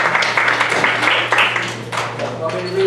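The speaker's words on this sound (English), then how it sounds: "everybody clap, let's try" An audience at a quiz-style game claps together in a steady, moderately loud burst of applause, with some voices mixed in under the clapping.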